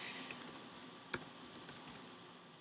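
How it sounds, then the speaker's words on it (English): Keys on a computer keyboard being typed in short irregular bursts, a quiet run of light clicks with one sharper tap partway through, with no talking. "I'm going to type"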